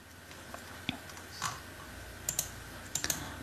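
Keys tapped on a computer keyboard while filling in an online tax form: sparse, soft clicks and a few quick double taps over a low background hum.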